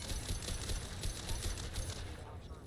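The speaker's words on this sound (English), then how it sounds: "Firing a high impact shot." Rapid gunfire from a high impact shot in the Mass Effect 2 video game, a dense burst of repeated shots crackling steadily throughout at a strong, even level.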